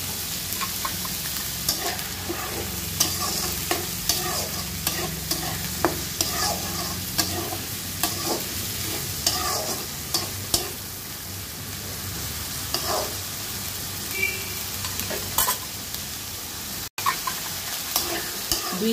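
Chickpeas with salt sizzle steadily in an oily pan, the broad fry noise running throughout while a spoon stirs and scrapes in regular clinks and strokes, close and fairly loud, with no voices.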